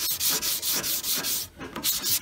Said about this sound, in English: So, use my little block. And then we'll sand.